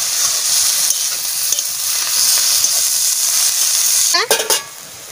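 Freshly picked khet greens fry in a pan with a steady, loud sizzle and hiss, ending with a brief scrape of stirring.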